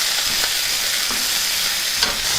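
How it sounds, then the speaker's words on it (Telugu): Capsicum pieces fry loudly in a pan with cumin, tamarind and salt for a capsicum chutney, a close, constant hissing sizzle with a few faint stirring knocks. "వీటిని ఒక రెండు నిమిషాలు బాగా వేగనిద్దాం"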